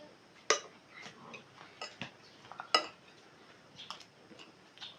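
Plates and cutlery clatter after a family meal, with a few sharp clinks and scrapes scattered unevenly against a quiet room.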